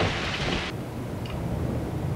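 A brief thunder sound effect: a low, rolling rumble under a rain-like hiss, fairly quiet, with the upper hiss cutting off abruptly after a moment.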